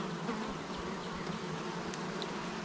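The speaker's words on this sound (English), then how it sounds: "these hives were all native captured swarms that we caught here on the property" Honey bees from native captured swarms buzz around backyard hive boxes, a dense, steady, close drone of many insects filling the air with no voices.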